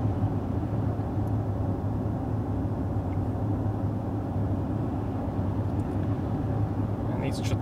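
A steady low road and engine drone fills the cabin of a 2019 Mercedes GLE 450 six-cylinder SUV cruising on a highway in traffic, continuous and fairly loud, with a few faint ticks near the end.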